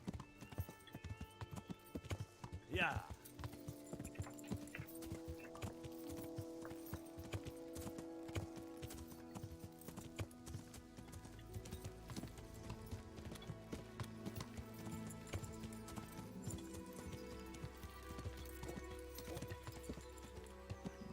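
A horse's hooves clip-clop along a path in the video game Kingdom Come: Deliverance, a quiet, uneven walking rhythm under background music, with a brief whinny near the start.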